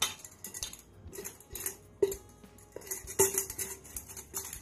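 An egg is mixed in a bowl for chocolate crinkles, heard as light, irregular clinks and taps of a utensil against the bowl, close and fairly quiet.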